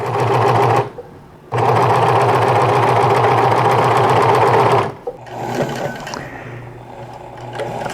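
A sewing machine top stitching a sleeve onto a T-shirt, running in a close, loud, steady buzzing burst, pausing briefly, then a longer run that stops before softer handling noises.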